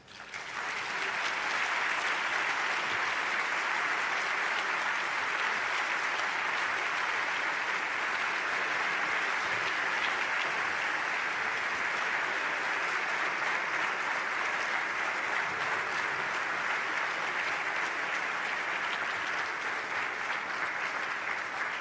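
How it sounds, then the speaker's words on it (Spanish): Sustained, loud applause from a lecture audience after a talk by Andrés Oppenheimer on education, a thick uniform roar of clapping that holds steady for over twenty seconds. "El aplauso fuerte para el maestro Andrés Oppenheimer por su excelente ponencia"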